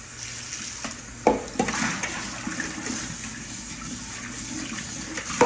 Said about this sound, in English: I'm going to have to rinse out my bowl because I made a mess in it